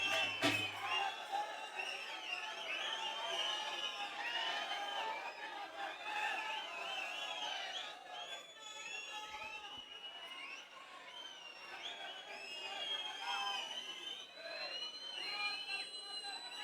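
A large crowd at a Raj Thackeray rally in Pimpri-Chinchwad cheers and shouts in a continuous, many-voiced roar, with whistles and cries rising and falling, heard from some distance.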